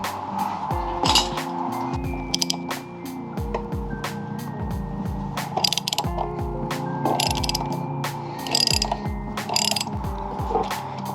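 Ratchet wrench loosening the top rear shock bolt on a Honda CRF300L, with rapid clicking pawl bursts and metallic ringing, close up, repeated in short spurts.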